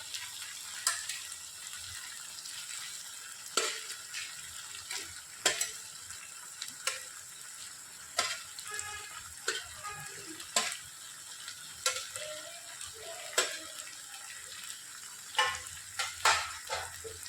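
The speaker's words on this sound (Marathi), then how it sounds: "आता मी सगळे चिकनचे पीसेस जे आपण फ्राय केलेले आहेत ते यात घालते." Fried chicken pieces stirred through a Goan cafreal masala in a pan, with a soft steady sizzle and repeated scraping, clinking stirs at irregular intervals, close and clear with no talk.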